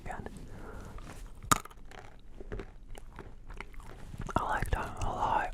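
Nuts, including cashews, are bitten and chewed close to the microphone. There is one sharp crunch followed by softer, irregular mastication and small crackles, with faint breathy whispering mixed in.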